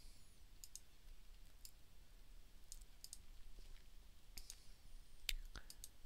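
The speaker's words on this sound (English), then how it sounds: "And then I'll type my XYZ characters and drag them to the path." Characters being typed on a computer keyboard, giving faint, sparse key clicks in small scattered groups over a quiet room hiss.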